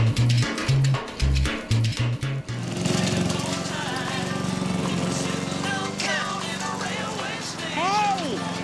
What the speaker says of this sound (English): Mowing Finn's lawn.